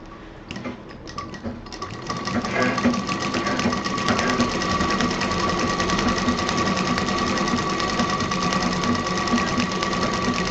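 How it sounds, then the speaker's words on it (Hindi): A sewing machine quilting a colourful fabric table mat, running in a steady fast mechanical rattle after a brief stuttering start, close and continuous with no talk. "अब इस पर हम मशीन चलाएंगे।"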